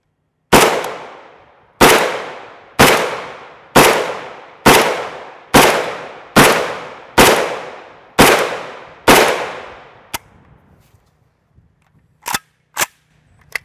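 A series of 7.62x39mm 124gr FMJ rifle shots fired from 10.5-inch and 20-inch barrels: ten loud, sharp cracks at a steady pace, each with a ringing tail, followed by a few fainter clicks and knocks.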